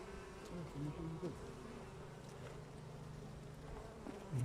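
Honey bees hum at a hive in a steady, close drone, many wings buzzing together at an even pitch with no pauses.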